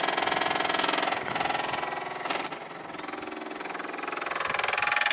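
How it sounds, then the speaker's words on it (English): A fuel pump on a 1978 Marquis runs with a steady, dense mechanical whirring drone, loud and close, holding constant throughout apart from a brief dip and flutter partway through. "That's how the pump should sound when it's actually getting fuel"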